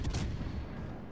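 Naval artillery from a Dallas cruiser in World of Warships: Legends goes off as a quick, faint burst of gunfire at the start, followed by a low, distant rumble that fades.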